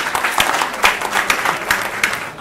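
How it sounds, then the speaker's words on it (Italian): Applause follows praise for 56 newborns saved through an Italian baby hatch with a thermal cradle, a steady crowd clapping with irregular louder bursts, fairly close and unbroken throughout. "questo merita intanto un applauso"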